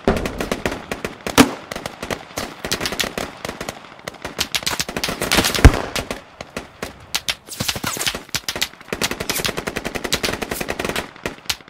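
Dense automatic gunfire in the military shooter game Squad on the Kohat Toi river valley map, rapid bursts and single cracks running continuously, loud and close, with a few sharper blasts standing out.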